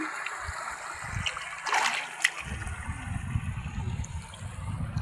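River water burbling and splashing close by, a soft running trickle that gets busier after the first couple of seconds.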